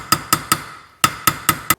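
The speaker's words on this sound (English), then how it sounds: "you'll need to hammer on this raised part here" A hammer strikes the raised part of a BMW E36 188mm limited-slip differential during restoration, seven sharp metallic blows in two quick groups of three and four with a short gap, loud and close.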